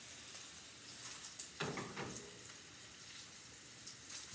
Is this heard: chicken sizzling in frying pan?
yes